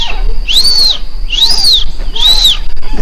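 A person whistles an imitation of a calm bird's call: three slow, arching notes that rise and fall, evenly spaced and close, with no talking.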